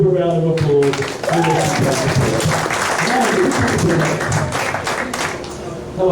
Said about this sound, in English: give me a super round of applause